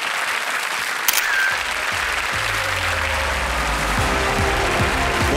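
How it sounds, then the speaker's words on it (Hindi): Audience applause in the studio of the KBC quiz show: a steady, dense wash of clapping that carries on throughout, with a brief voice near the start. "तालियों के साथ आपका अभिनंदन करता हूं"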